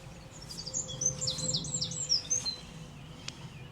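A bird sings outdoors beside a narrowboat, with repeated bright chirping phrases over a steady low background hum, fairly close and clear, fading toward the end.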